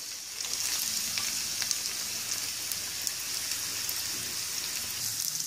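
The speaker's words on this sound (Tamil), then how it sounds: "இப்போ எண்ணெய் சூடாயிடுச்சு, எண்ணெய் சூடானோன்னு இதை வெட்டி வச்ச வெங்காயத்தை போடுங்க" Chopped onions hit hot oil in a pan and fry with a steady, dense crackling sizzle that carries on close and even throughout, with no talking.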